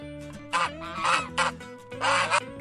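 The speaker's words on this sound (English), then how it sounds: "Goose." A goose honks in four or five harsh, loud bursts in quick uneven rhythm, close by and alone.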